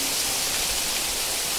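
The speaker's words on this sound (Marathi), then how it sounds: "बाहेर जाऊ शकत नाही आता कारण की भयानक पाऊस पडतोय" Heavy monsoon rain pouring down outside a house, a dense, even hiss heard from indoors that holds steady and fairly soft throughout with no other sounds.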